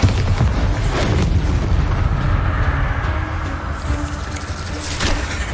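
Bombarda blasting spell detonating in Hogwarts Legacy, a loud, sustained booming rumble that fills the whole stretch, with a fresh surge of blast energy near the end.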